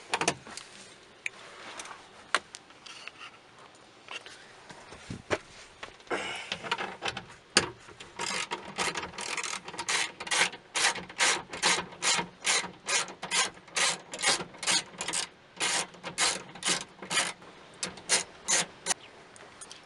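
Bolts being undone on the door lock of a 2010-or-later Dodge Caravan, a string of quiet rapid ratchet clicks in regular bursts, close and faint, after scattered handling noises.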